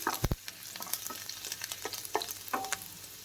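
Garlic and ginger sauté in a pan over low heat with a soft, close sizzle, broken by quick scraping stirs of a spoon.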